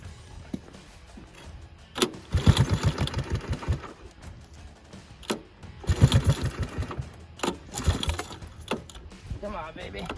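Engine of a 1984 Honda ATC 200S three-wheeler revived after being seized, starting up in two rough, sputtering bursts of rapid putting before dying back, with brief voices between.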